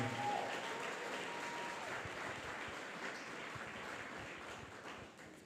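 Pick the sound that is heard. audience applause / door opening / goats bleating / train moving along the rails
audience applause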